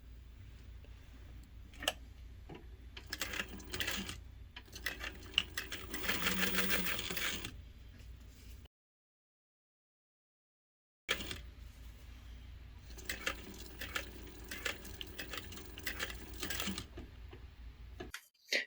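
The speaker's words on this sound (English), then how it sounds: "we're going to go ahead and sew a 1/8 of an inch top stitch." A sewing machine runs a 1/8 inch top stitch along a bag, its needle chattering in rapid mechanical bursts that stop for a few seconds of silence and then start again.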